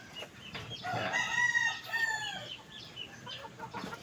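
Domestic chickens cluck in a farmyard while a rooster lets out a loud, drawn-out cock-a-doodle-doo near the middle, with scattered softer clucks before and after.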